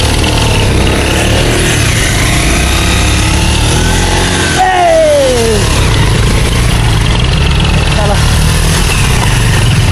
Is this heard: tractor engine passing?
yes